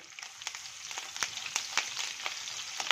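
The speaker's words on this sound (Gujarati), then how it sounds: "જીરું આપણું સોતળાઈ જાય એટલે આપણે તીખાસ પ્રમાણે બે લીલા મરચાં ઉમેરીશું" Green chillies crackle in hot oil with cumin seeds, a steady close fry with sharp pops and spits scattered through a light hiss.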